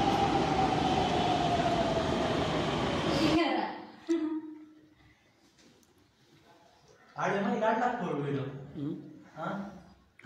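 A loud rumbling metro train roar with a falling whine fills the first few seconds, then cuts to a quieter carriage interior where people talk.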